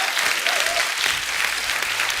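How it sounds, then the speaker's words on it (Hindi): A studio audience on a television comedy talk show bursts into dense, continuous applause, loud and steady for about two seconds. "इसके लिए तालियां बनती पहले तो।"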